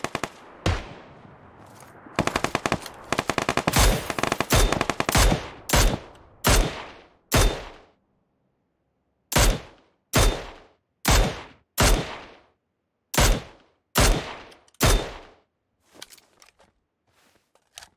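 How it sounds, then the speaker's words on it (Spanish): Bots shoot at each other in PUBG Lite, with a steady series of sharp, loud rifle shots and short bursts and brief pauses between them, heard clearly and with no talking. "Se están disparando entre los bots ahí"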